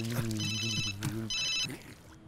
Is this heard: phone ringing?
yes